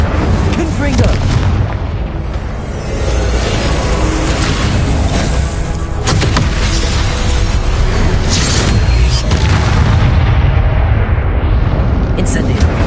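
Confringo blasting spells in Hogwarts Legacy burst in repeated booming explosions amid a chaotic, loud combat din, with spoken voices underneath.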